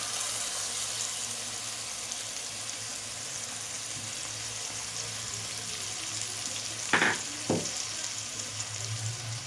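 A splash of bowl-rinse water poured into a spice paste frying in a pan, giving a steady, close hiss of sizzling with a couple of brief clatters near the end.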